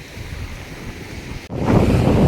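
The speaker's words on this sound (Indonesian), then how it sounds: "Kita lihat panorama yang indah dengan deburan ombak khasnya pantai selatan Jawa Barat ya." Ocean waves at Jayanti Beach on the south coast of West Java, Indonesia, form a steady roar of surf mixed with wind buffeting the microphone, swelling louder partway through, with no talk.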